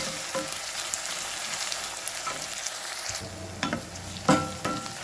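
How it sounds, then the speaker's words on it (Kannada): Chopped onion sizzling in hot oil as a tempering for banana stem stir-fry, with steady frying hiss and occasional scraping stirs of a spoon in the pan, close and moderately loud, no voices. "ಈರುಳ್ಳಿಯನ್ನು ಒಗ್ಗರಣೆ ಚೆನ್ನಾಗಿ ಹುರಿಬೇಕು"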